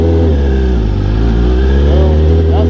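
Honda CBR1000RR-R SP superbike from 2024 with a newly fitted exhaust, its engine droning loud and steady with harmonic layers, rising slightly near the end as the throttle opens.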